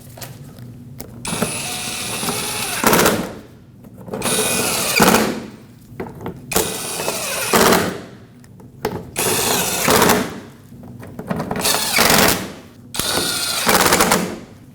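A power tool drives in the bolts of a bumper impact absorber's bottom panel on a 2005-2021 Nissan Frontier, sounding as repeated loud rattling bursts of a few seconds each separated by brief pauses, close and without talk.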